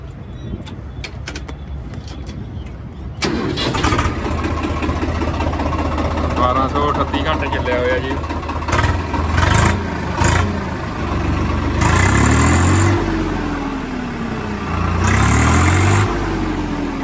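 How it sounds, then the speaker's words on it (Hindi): A 2020-model Swaraj 855 tractor's diesel engine cranks and fires about three seconds in, then idles and revs unevenly outdoors, with bursts of louder throttle near the end. Birds chirp in the background. "ਬਾਕੀ ਸਟਾਰਟਿੰਗ ਵੀ ਦਿਖਾ ਦਿੰਦੇ ਇਹਦੀ।"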